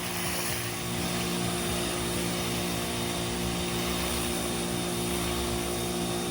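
Pressure washer spraying a sidewalk, a steady loud motor drone with constant hissing spray that holds evenly throughout without pause.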